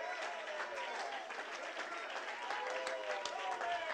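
A church congregation applauds and calls out in acclamation during a worship service, a dense, steady wash of clapping and raised voices that holds for the whole stretch.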